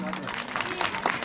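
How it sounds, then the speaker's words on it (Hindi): Applause at a school annual function in Gairsain, a brief, soft patter of audience clapping with voices and crowd murmur mixed in. "प्लान इंडिया के लिए आप जोरदार ताली बजाएंगे।"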